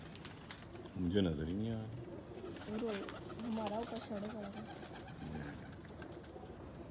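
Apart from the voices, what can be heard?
female pigeon cooing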